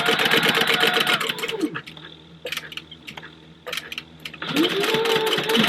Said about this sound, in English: we're going to stay here at the sewing machine so we can close the rest of our holes up